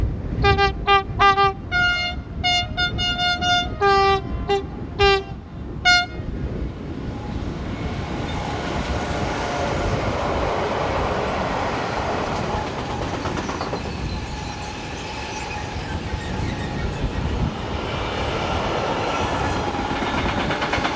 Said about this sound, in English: we see ECRs 186177 heading south with a mixed freight